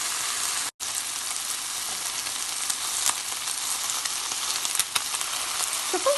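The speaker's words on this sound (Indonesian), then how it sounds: "wajannya dipanaskan dengan api kecil, kemudian dipanggang daging ayamnya, bagian kulitnya" Chicken skin searing in a wok over low heat, a steady dense sizzle with small crackles throughout, close and even, briefly cut off near the start, with no talk.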